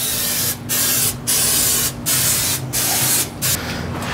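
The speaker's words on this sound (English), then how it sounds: "I'm gonna go ahead and spray the bottom grate." Five short, loud bursts of aerosol oil spray hiss in a steady rhythm onto an offset smoker's cooking grate, close up, with brief pauses between each.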